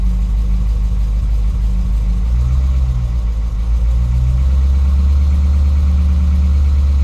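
A Hemi V8 with a broken flex plate idles steadily in drive, a loud, continuous low rumble with a smooth, even drone and no knock, running alone throughout.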